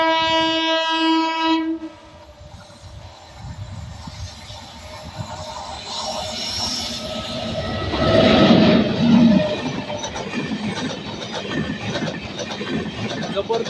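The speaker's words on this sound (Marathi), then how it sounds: "WAG9 लोकोमोटिव्हचं महाराष्ट्र एक्सप्रेस जबरदस्त स्पीडमध्ये जात आहे।" The Maharashtra Express, hauled by a WAG9 electric locomotive with new LHB coaches, passes at high speed on Indian Railways. A loud horn blast opens it, and then a sustained rumble and rattling of wheels and coaches builds and carries on close by.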